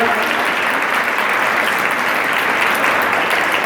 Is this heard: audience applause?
yes